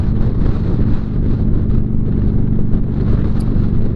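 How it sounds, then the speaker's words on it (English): Gusting wind buffets a motorcycle rider on the road in Florida ahead of Daytona Bike Week, making a loud, continuous low roar and rumble that fills the whole clip without speech. "you can see how this wind gusting is blowing my head around"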